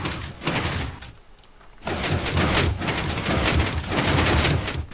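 Minecraft redstone pistons in a 3x3 door layout fire repeatedly, a dense run of clacking mechanical thuds with a brief lull in the middle before the rapid clatter resumes at full, close volume.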